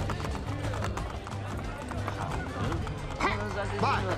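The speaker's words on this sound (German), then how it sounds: "ab sofort kann ich immer mit E ein Pferd rufen." Galloping horse hooves in Assassin's Creed Brotherhood clop steadily over continuous background music, a quick rhythmic beat running through the whole stretch.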